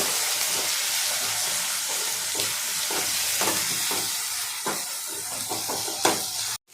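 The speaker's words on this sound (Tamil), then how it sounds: "எண்ணெயிலே போட்டு வதக்கிடலாம்" Garlic sautés in hot oil for an anchovy fish curry, giving a steady close sizzle throughout, with scraping stirring strokes and a few clinks of the spoon against the pan.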